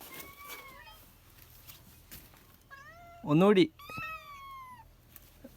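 A cat meows in several drawn-out, rising cries, with one loud, strained yowl in the middle, heard close by while a person speaks softly nearby.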